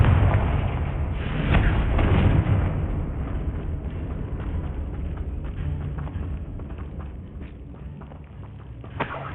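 A Confringo fire spell blast in Hogwarts Legacy booms heavily at the start, then fades into a rumbling, crackling tail that slowly quiets, with a faint thump near the end.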